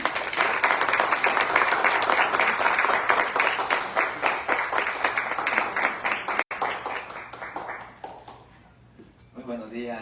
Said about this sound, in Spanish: recibamos al pastor Jorge Guzmán con un fuerte aplauso